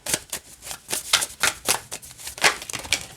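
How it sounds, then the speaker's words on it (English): Tarot cards being shuffled by hand, a rapid series of crisp riffling and flicking bursts in an uneven rhythm, close up and alone. "They still shuffle. Overhand shuffle is fine too."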